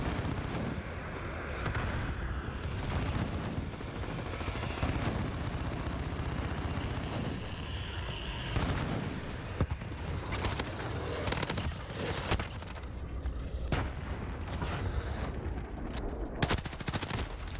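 Gunfire in Modern Warfare multiplayer with an MP5 loadout, dense and continuous rattling bursts and booming shots layered over constant battlefield rumble, fairly distant and busy throughout.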